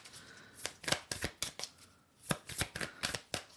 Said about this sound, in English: Shuffling and sorting.